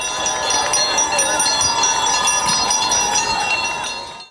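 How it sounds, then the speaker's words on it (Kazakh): An electric school bell rings continuously for a last-bell graduation ceremony at a school in Karaganda, Kazakhstan, a steady loud ringing throughout with crowd murmur and voices underneath. "Рәсімнен соң көптен күткен соңғы қоңыраудың даусы да естілді."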